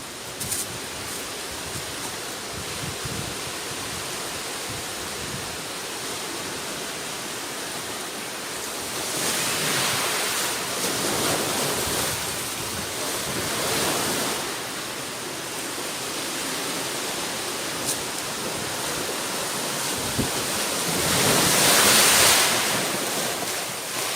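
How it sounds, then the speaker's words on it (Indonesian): Ocean waves wash continuously onto a beach, a broad steady roar that swells louder a few times, with wind noise and no voices. "ini aku kasih sound suara ombak di pantai"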